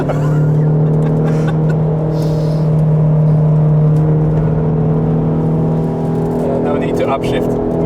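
A tractor engine revs hard while driving flat out on a race track, a loud, steady, droning roar holding near constant pitch throughout, with voices talking over it.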